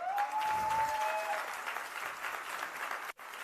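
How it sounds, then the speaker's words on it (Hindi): An audience at a motivational talk breaks into loud, sustained clapping that stays fairly even before dipping briefly near the end, with a faint whistle-like tone early on. "ताली बजानी है तो ऐसी बजाओ"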